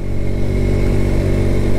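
A motorcycle engine labours hard up a steep hill road on a ride from Dhaka to Sajek Valley, giving a loud, close, steady drone with a strong low hum and no talking over it.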